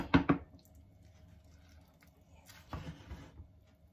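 Grated radish is squeezed by hand to wring the water out, giving quiet wet squishes and soft dripping in two brief clusters separated by a pause.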